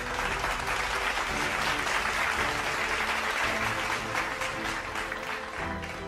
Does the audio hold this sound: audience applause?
yes